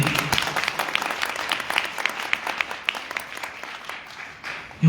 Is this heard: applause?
yes